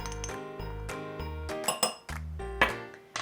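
Metal measuring spoons clink and ping against each other and a container while spices are measured for an apple-rhubarb crisp. The ringing clinks are close and irregular, and no one speaks over them.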